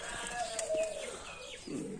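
A young roller pigeon, a feather-footed Lotan chick, coos softly among other faint bird calls, ending with a low, breathy murmur close by.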